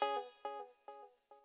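Electric guitar run through a distortion saturation plugin in a pop mix plays four separate sustained notes, each attacking sharply, ringing with rich harmonics and fading before the next.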